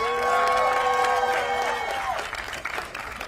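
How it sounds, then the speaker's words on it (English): A political rally crowd applauds and cheers for Senator Katrina Shealy, steady loud clapping with whoops and sustained tonal cheering that fades after about two seconds into scattered claps. "Please give her a round of applause."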